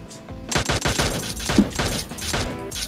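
Rapid automatic gunfire bursts from a PUBG Mobile match, loud and close, with overlapping shots in quick succession and no talking.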